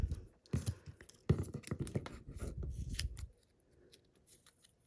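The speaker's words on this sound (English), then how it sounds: "So I'm just going to cut that, and I think I'm going to cut this one off." Scissors cutting card for the border of a side-fold easel card, a quick run of close, crisp snips and rustles that stops abruptly, followed by faint handling sounds.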